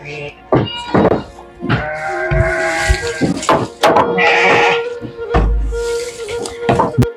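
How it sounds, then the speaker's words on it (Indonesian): Garut sheep in a pen, giving several short bleats close by, mixed with knocks and thuds on the pen, and a person speaking in between. "Dan di sini juga ada domba."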